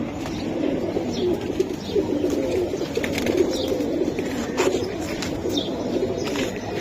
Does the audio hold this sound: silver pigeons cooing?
yes